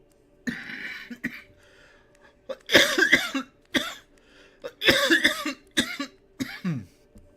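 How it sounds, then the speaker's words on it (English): A person coughs repeatedly in harsh, close bursts, some in quick clusters and some spaced out, with short pauses between the fits. "this cough is killing me, though"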